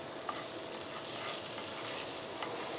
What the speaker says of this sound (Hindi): इसे थोड़ा सा सौते करना है